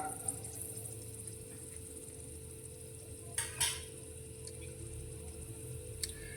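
Dry red chilies, cloves and cinnamon temper in hot oil over a low flame, giving a soft, steady sizzle under a constant low hum, with a few sharp clinks and utensil scrapes near the middle and end.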